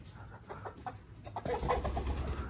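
A hen gives a few soft, scattered clucks close by, faint and brief, followed by a burst of rustling or fluttering movement.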